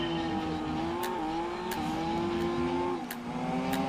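Gran Turismo 2 race car engine holding a steady high drone, its pitch rising and briefly dropping with quick gear shifts, loud and continuous with no talk.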